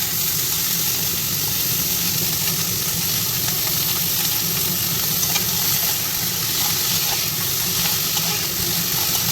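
Onion and vegetables fry in oil with a little butter, a loud, dense, continuous sizzle and hiss held steady at close range with no talk.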